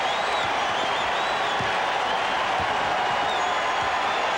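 A large arena crowd at Game 1 of the 1994 NBA Finals, Rockets vs Knicks, roars and applauds continuously, a dense wash of cheering that stays loud for the whole stretch.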